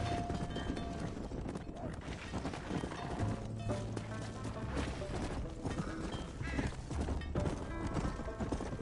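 A horse in the Western video game Red Dead Redemption neighs and whinnies while its hooves clop busily on the ground, loud and close throughout, with a low rumbling drone underneath.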